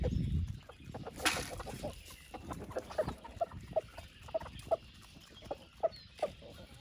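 Backyard chickens, including some recovering from a heavy molt, cluck in a steady scattered series of short calls, moderately close, with a brief louder squawk early on and no talk.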